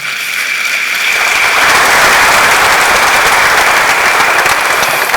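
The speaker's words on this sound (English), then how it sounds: "I think this deserves an applause." Loud, dense audience applause at a UPSA honors ceremony for a law figure, swelling after a brief quiet start into sustained, rain-like clapping that fills the hall.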